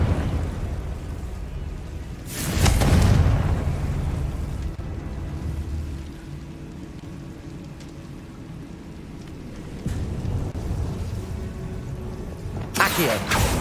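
Two Confringo blasting-spell explosions in Hogwarts Legacy burst with broad, roaring whooshes, one early and one at the end, set against a steady rain-like ambient wash and faint low background noise.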